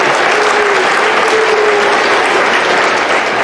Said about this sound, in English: Give yourselves one more big round of applause on that great achievement.